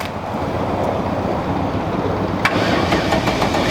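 A Volkswagen VR6 engine, hooked up to another car's battery, cranks and then settles into a running idle. The rumble is steady and fairly loud, with a few sharper clicks near the end and no voices.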